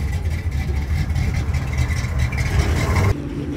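A Dodge Hellcat idles close by with a choppy cam, its low, lumpy rumble pulsing unevenly throughout before a brief dip near the end.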